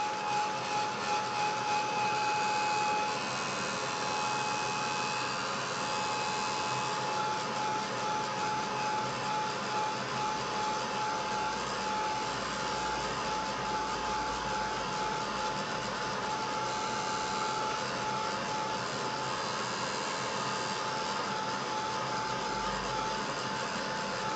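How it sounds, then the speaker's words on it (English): A steady, loud electric blower roars continuously with a high whine on top, running without pause the whole time. "I'm going to dry it with my heat gun."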